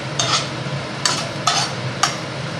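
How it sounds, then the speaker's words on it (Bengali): Nigella seeds and dried red chillies tempering in a little hot oil for a thin hilsa fish curry with brinjal and potato, a steady soft sizzle with a few scraping stirs of a spoon against the pan, no talk. "এবার তেলে কালো জিরা শুকনো লঙ্কা ফোড়ন দিয়ে দিচ্ছি ফোড়নটা একটুখানি ভেজে নেব তেলে"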